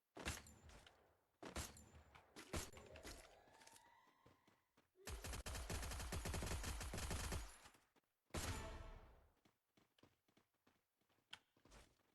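Gunfire in the Free Fire mobile shooter game: scattered sharp shots, then a long sustained burst of rapid automatic fire, a pause, and another burst trailing into sparse single shots, fairly quiet overall.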